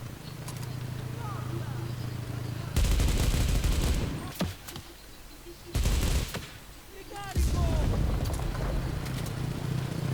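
A ZB-26 light machine gun in Enlisted fires in two long, loud bursts of rapid rattling shots, each cutting off abruptly, between stretches of quieter battlefield ambience with a voice talking over the quieter gaps.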